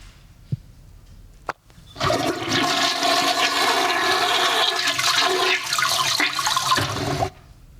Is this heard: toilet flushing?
yes